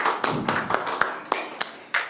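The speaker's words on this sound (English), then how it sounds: "round of applause for Don" A small audience gives a round of applause for a speaker, heard as a handful of distinct, fairly close claps in an uneven, sparse rhythm over about two seconds.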